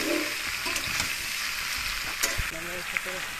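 Jackfruit curry ingredients being stirred and mixed in a hot pan, a steady close sizzle of frying with scraping and clattering strokes of a spatula, no talk.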